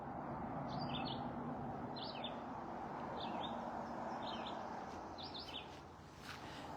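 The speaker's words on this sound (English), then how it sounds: "I can hear the birds. They're coming from over there." Several short bird chirps repeat in small bursts over a steady outdoor hiss, fairly distant and soft.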